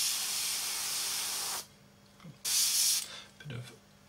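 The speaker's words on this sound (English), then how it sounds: "we can actually move forward and then spray it up" An airbrush sprays paint onto a B-24 model kit in two hissing bursts, a long steady spray at the start and a shorter one a moment later, close and fairly loud, with small handling clicks between them.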